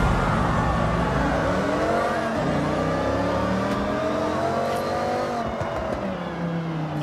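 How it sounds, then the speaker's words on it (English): Rally car engine in the Forza Horizon 6 racing game, loud and continuous: a rough, rasping drone whose pitch climbs and drops with gear changes and throttle. "the car sounds damaged. What the heck? It's a rally car. It's supposed to sound like that."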